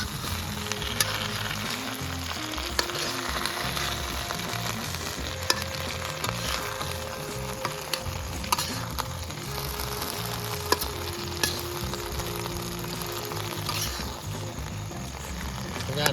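Tomato sauce going into Manchurian frying in a pan at a village farm, a steady close sizzle and spatter with faint stirring scrapes running throughout, no talking.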